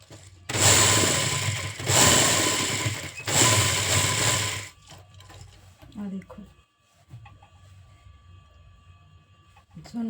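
A sewing machine stitches a heavy embroidered kurti after its beads are broken off. Three loud, close bursts of rapid mechanical stitching run back to back, followed by quieter handling clatter and faint talk.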